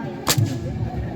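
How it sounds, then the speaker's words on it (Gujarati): A single sharp bang bursts out, followed by a rumbling echo, over a background of low noise. "આ શેનો અવાજ આવે છે એ ફટાકા ફૂટે"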